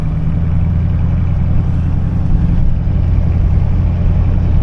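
A 1986 Chevrolet Suburban engine runs at a rough, uneven idle from a poorly tuned carburetor, a loud, close, steady low rumble with a lumpy pulsing beat and no talk.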